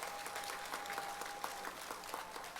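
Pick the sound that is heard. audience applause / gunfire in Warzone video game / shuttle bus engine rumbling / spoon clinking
audience applause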